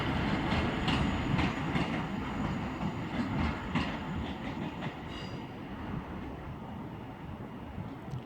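A Northern passenger train from Chester to Manchester Piccadilly rumbles past close by at Stockport station, wheels clattering rhythmically over the rails, the noise slowly easing as it moves on.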